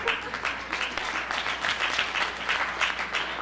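An audience at a media and corporate power conference claps in a dense, continuous patter that stays steady and fairly loud throughout.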